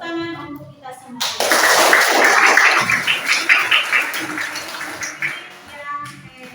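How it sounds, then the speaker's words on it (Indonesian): A classroom bursts into sustained, close applause for everyone that lasts about four seconds and fades into talk, with children's voices on both sides of it. "tepuk tangan untuk kita semua"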